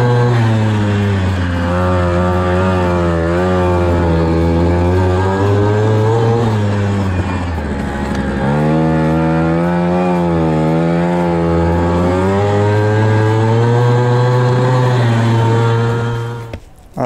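Small mopeds buzz steadily around a homemade race track, their two-stroke engines droning loud and close with pitch rising and falling as they accelerate and slow through curves and down the back straight.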